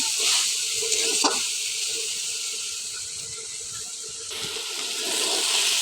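Okra frying in a pan: a close, steady sizzling hiss that swells slightly at the start and the end, with no one talking.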